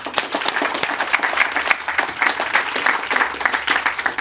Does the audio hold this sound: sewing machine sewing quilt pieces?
no